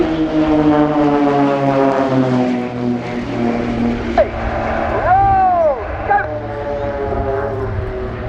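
An aerobatic propeller plane of the Blades Aerobatic Team drones steadily with a strong harmonic engine tone, its pitch shifting and bending as it maneuvers during a flying display at RIAT 2019, loud and close throughout.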